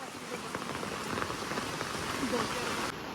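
Heavy monsoon rain pours down in Konkan, a dense, loud, continuous roar of water hitting surfaces that cuts off abruptly near the end.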